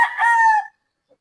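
A gamefarm rooster lets out one short, loud, close crow lasting under a second, followed by silence.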